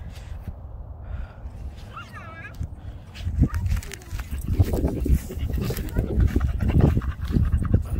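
Rapid, breathy panting of a dog on a hiking trail, close to the microphone and growing heavier and more rhythmic, with voices talking faintly and a short high whimper early on.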